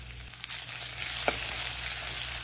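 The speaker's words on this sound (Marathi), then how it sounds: "लसूण लाल होईपर्यंत चांगलं परतून घ्यायचं" Crushed garlic, curry leaves and dried red chillies fry in hot oil in a pan for a Maharashtrian kulith pithla, giving a steady close sizzle with one brief scrape of stirring partway through.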